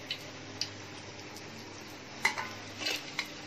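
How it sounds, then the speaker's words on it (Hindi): Rajasthani mirchi vada, chili pakoras, fry in hot oil with a faint, steady sizzle, broken by a few light clinks of a utensil against the pan. "ये पकौड़े सिक रहे हैं हमारे मिर्ची के"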